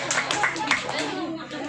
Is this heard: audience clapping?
yes